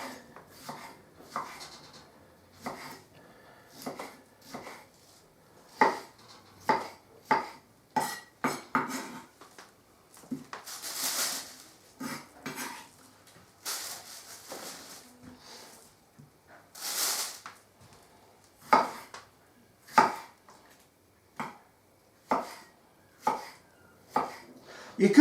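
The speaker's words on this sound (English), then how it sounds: "So I'm going to quarter the tomatoes, slice them in the middle again" A knife chops through ordinary tomatoes on a board, cutting them into quarters: a long run of sharp, close knocks in uneven bursts, some quick triplets, with a few brief scraping sweeps in between.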